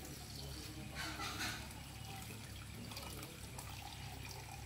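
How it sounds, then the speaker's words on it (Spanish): Water poured into a coffee-style filter in a kitchen while making chamomile tea: a steady, soft hiss of running liquid lasting several seconds, moderately quiet and without voices. "Vamos a echarle un poquito de agua"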